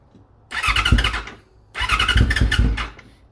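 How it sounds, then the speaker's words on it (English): A cold carbureted 2002 Yamaha R6 sport motorcycle is started on choke twice, each start catching into a loud, rough, close idle that holds for about a second before cutting off. "So I'll go ahead and I'll start it up."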